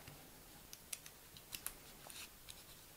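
A few quick snips of scissors trimming excess paper from a card, sharp crisp clicks close up over a quiet background.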